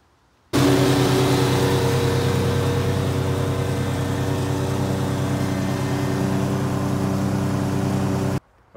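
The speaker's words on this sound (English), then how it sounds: "I'm gonna run over it quick with the lawnmower." A lawn mower fitted with a stock blade and a sharpened blade runs over grass, its engine starting abruptly and holding a loud, steady drone for about eight seconds before cutting off.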